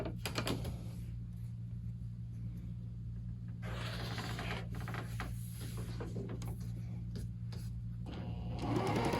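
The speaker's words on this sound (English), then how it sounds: "I'm just going to take each one of these and then start sewing their background pieces on." A sewing machine stitching background pieces onto quilt blocks, a steady quiet mechanical whir with a low hum and light rattling, and a few soft handling taps, with no voices.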